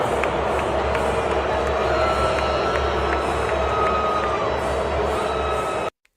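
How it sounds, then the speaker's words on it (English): A dense crowd at a televised event roars and boos Taylor Swift in a steady, loud wash of voices that cuts off abruptly at the end. "They booed her."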